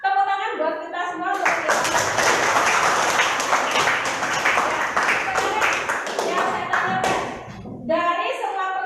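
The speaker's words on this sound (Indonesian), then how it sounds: "Tepuk tangan buat kita semua." Classroom students clapping together in a lesson, a burst of brisk applause that rises after a moment of music-like tones and fades back, with a voice and tonal sounds around it.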